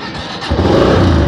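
A motorbike engine catches and starts up, a low rumble that swells abruptly and holds steady at close range, outdoors in the Head Marala area of Sialkot.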